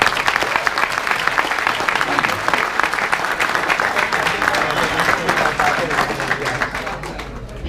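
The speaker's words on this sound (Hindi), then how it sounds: "आज की बड़ी शख्सियत फहमी बदायूनी के लिए भी एक बार तालियां देखिए" Audience applause at a mushaira poetry event, a dense, sustained wash of many hands clapping that runs steadily for several seconds with no talk over it.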